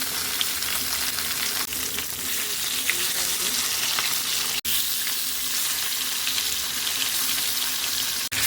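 Pieces of catla fish frying in hot oil give a loud, dense, continuous sizzle close up, with two momentary dropouts.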